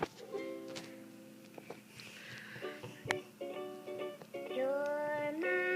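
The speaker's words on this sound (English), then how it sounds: "So he decided to play a song for her on his ukulele" A ukulele strums and plucks a light, bouncy tune in a cartoon setting, fairly quiet and close, with brief gaps and small incidental noises between phrases.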